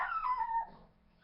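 A dog lets out a drawn-out, falling whimper close by, fairly soft, that trails off into quiet.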